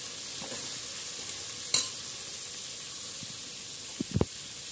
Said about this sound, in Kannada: ಈಗ ಇದೆಲ್ಲ ಸ್ವಲ್ಪ ಫ್ರೈ ಮಾಡ್ಕೊಳ್ಳಿ.